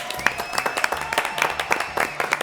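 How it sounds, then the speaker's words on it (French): A studio audience at the close of a talk show claps in a short, lively burst, individual sharp hand claps close by and distinct over a modest crowd, with no one speaking. "Applaudissements s'il vous plaît."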